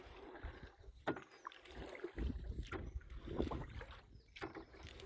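Irregular strokes of a single paddle splash and dip in pond water, with faint wind and knocking against a small boat, fairly close.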